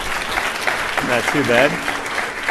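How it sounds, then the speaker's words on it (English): Conference audience applauding during a Microsoft Ignite 2015 business intelligence session, a broad wash of claps running the whole time with a person talking over it. "Applause."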